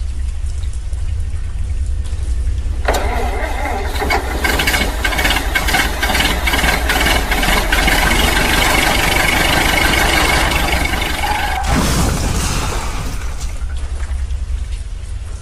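A car engine turns over and runs steadily, its loud broadband rumble lasting most of the stretch before cutting off, then a brief burst follows; no voices.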